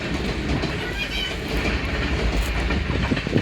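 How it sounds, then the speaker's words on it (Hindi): A long train rolls past on its rails with a loud, continuous rumble and rhythmic clatter of wheels, heard close up without any speech. "वाह जी वाह ज़बरदस्त जा रही है रेलगाड़ी"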